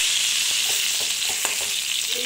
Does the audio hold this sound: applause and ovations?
no